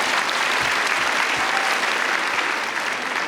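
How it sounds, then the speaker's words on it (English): Dense, loud applause from a crowd at a comic con in Liverpool, continuous clapping filling the whole moment without a break. "Give her a round of applause."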